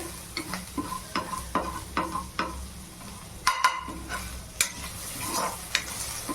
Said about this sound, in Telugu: ఇప్పుడు క్యాప్సికమ్ వేసిన తర్వాత బాగా కలపండి